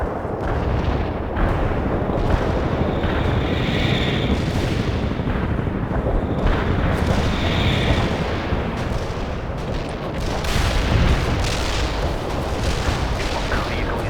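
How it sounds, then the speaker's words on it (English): An artillery strike in the strategy video game World in Conflict produces a continuous heavy barrage of booming blasts and deep rumbling explosions that fill the whole stretch loudly, with no speech. "Romanov will aid you with artillery fire."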